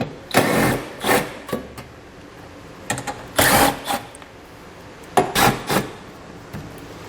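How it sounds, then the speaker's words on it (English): Bolts on a 2020 Lexus NX 300 trim ring being loosened with a 10mm socket and ratchet give short bursts of clicking ratchet noise, close up, with pauses between each burst. "I'll pull them out using a 10mm socket."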